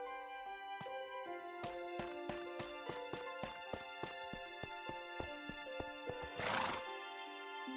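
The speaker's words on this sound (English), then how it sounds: "the titular horse that helped Rust across his first world, is back" A horse in the Minecraft video game whinnies once near the end, a short breathy neigh rising over steady, plinking in-game music with soft hoof-like taps.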